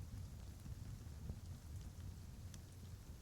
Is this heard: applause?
no